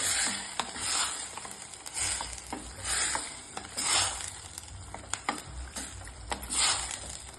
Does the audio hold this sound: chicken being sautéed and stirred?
yes